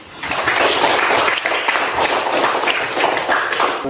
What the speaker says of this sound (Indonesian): ya, baru tepuk tangan.